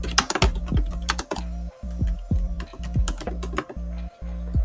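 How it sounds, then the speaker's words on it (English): Rapid close clicking of fingers typing on a computer keyboard, with uneven bursts of keystrokes and short pauses, no voices. "so I'm gonna go to the text box and we're just gonna type in"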